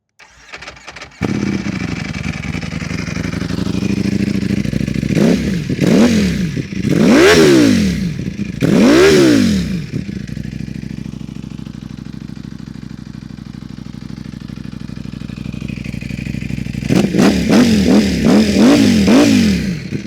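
A Ducati Panigale V4R sport motorcycle engine cranks and fires up loud and close, settles into a rough idle, then gets several sharp throttle blips and revs.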